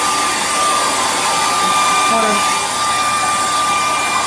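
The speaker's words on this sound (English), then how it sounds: "Now you use the blow dryer and we're going to push it around" Hair dryer blowing across a countertop to push an acrylic paint and Elmer's glue pour toward the edges, a loud, steady close whir throughout, with brief speech over it.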